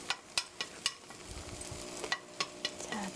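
Eggs for a cheese omelette cook slowly over low heat, with a soft, quiet sizzle broken by regular sharp taps and scrapes of a utensil in the pan. No one speaks.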